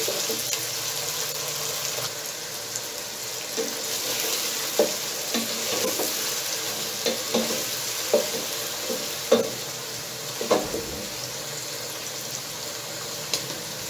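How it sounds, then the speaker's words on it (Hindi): Boneless chicken sizzles and crackles steadily in a hot pan, with occasional scraping stirs of a spoon and brief clinks against the metal. "और इसको हम अब अच्छी तरह भून लेंगे।"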